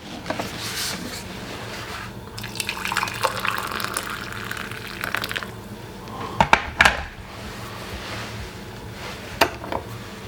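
Hot water pours from a kettle into a cup over two lemon slices for morning lemon tea, a splashing, trickling stream at close range with a few clinks of the cup.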